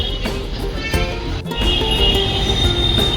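A Pune Metro train runs loudly with a steady rumble, rattling clatter and high metallic whine, close and continuous.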